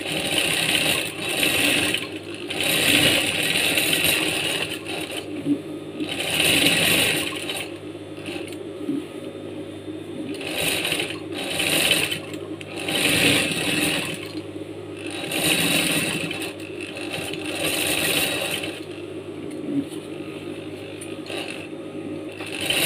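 Sewing machine stitching a vest pocket, running in repeated bursts of fast mechanical whirring and clatter that start and stop every few seconds, close and fairly loud with no talking.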